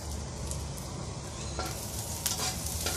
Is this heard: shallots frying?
yes